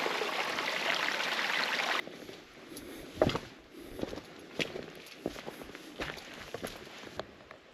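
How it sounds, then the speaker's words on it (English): Rushing water from a forest stream or small waterfall fills the opening seconds as a steady broadband wash, then drops to a quieter trickle with scattered footsteps and splashes nearby. "Oh, I hear another waterfall."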